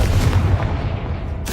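A Confringo blasting spell in Hogwarts Legacy explodes as a loud, deep boom with a heavy low rumble that fades over about a second, then a brief fresh burst of noise at the very end.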